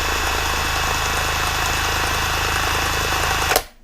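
An ALLSOME 400 Nm cordless impact wrench fitted with a plain socket runs with a loud, steady motor whir for over three seconds, then winds down and stops.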